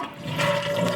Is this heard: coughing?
no